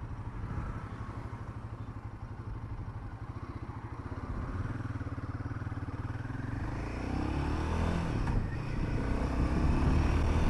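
A motorcycle accelerates hard from 0 to 60 in second gear, its engine rising in a steady, loud climbing drone with a brief shift-like break near the end, close and continuous with no talk.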